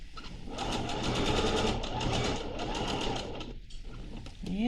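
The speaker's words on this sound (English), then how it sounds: "And we're going to sew this all the way around." A home sewing machine runs in a sustained fast whir, close and fairly loud, stitching all the way around a fleece hat, then slows and stops near the end with no talking.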